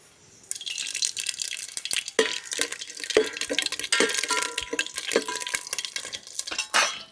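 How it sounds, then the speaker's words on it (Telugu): Whole spices fry in hot sunflower oil topped with ghee for bagara rice, a crackling sizzle broken by repeated metal stirring clatters against the pot, close and lively. "ఓకేనండి దినుసులు మొత్తం కూడాను వేగిపోయినాయి"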